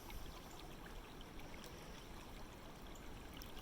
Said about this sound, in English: I'm standing in the middle of the creek